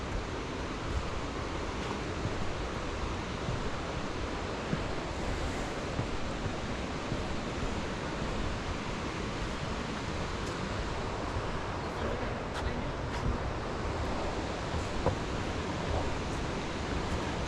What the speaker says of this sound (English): So they got waterfalls to the left and then the footbridge to the, or waterfalls to the right